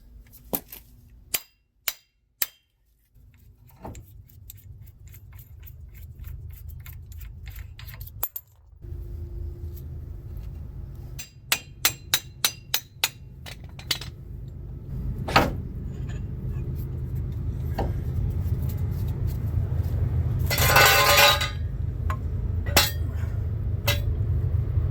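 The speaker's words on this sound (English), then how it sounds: "Now we're going to hammer this axle out." Sharp metallic hammer blows ring out in scattered bursts, some in quick runs, as a car's passenger CV axle shaft is hammered out, over a steady low engine-like rumble and workshop clatter.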